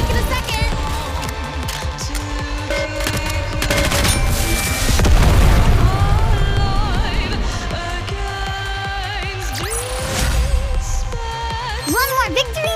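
Gunfire in the NIKKE: The Goddess of Victory game, a dense game mix of bursts, booms and rapid shots running throughout at steady loudness, mixed with music and effects, with character voices speaking over it.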